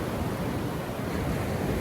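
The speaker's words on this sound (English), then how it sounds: "As you can hear the pounding of the waves, as little as they are, they're not very big." Small ocean waves pound and wash steadily in a bay, a continuous broadband surf roar with gentle rolling swells and some wind noise, heard alone with no voices.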